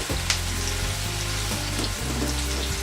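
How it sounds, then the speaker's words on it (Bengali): A large chopped onion fries in oil in a nonstick pan, giving a loud, continuous close-up sizzle with a few faint scraping stirs. "পেঁয়াজ কুচিটা দিয়ে দিচ্ছি।"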